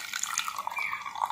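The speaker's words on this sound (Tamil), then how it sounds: "இப்போ நான் வந்து கொஞ்சமா தண்ணி ஆட் பண்றேன் இதுல" Water poured into a bowl of shampoo and baking soda slime mixture gives a short series of light splashy drips and trickles, close and fairly quiet, with no talk.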